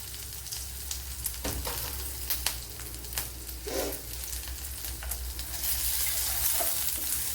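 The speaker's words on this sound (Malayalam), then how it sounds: "ശേഷം കറി ലീസ് ഇട്ട് കൊടുക്കുക." Curry leaves crackle and sizzle in hot oil in a pan while Indian gooseberry is cooked, with steady frying hiss, scattered pops and clicks, and a brighter spattering rise toward the end.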